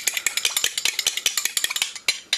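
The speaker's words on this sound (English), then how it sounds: "We'll give it a good stir" Scrambled egg mixture being stirred in a bowl before microwaving, a quick run of sharp, rhythmic utensil clinks and taps against the bowl, close and clear with no voices.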